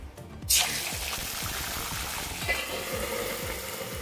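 Onion paste hits hot oil with cardamom, cloves, cinnamon and bay leaf, bursting into a sharp sizzle that settles into steady close frying with faint repeated scraping or stirring.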